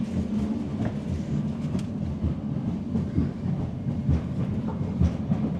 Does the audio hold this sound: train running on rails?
yes